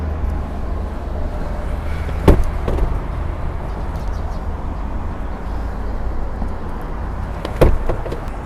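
Leather 60-40 folding rear seat of a 2018 Mitsubishi Pajero Sport 2.4 GT Premium 2WD pulled up into place: two sharp, close clunks several seconds apart over a steady low cabin rumble.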